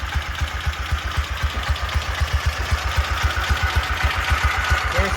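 Homemade motorcycle engine running with a fast, steady, knocking putter of regular pulses, close and fairly loud throughout.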